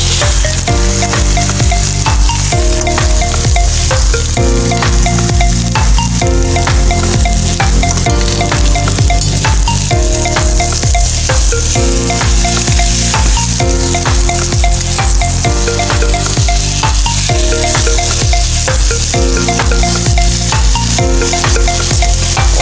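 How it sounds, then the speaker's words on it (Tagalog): Alugbati and sikwa being sautéed and stirred in a pan, with a steady loud sizzle of frying running throughout alongside rhythmic stirring scrapes, and no voices. "Kaya ating halu-haluin para masyadong mabango ang ating luto"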